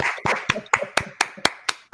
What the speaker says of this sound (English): You guys can clap with me so they know.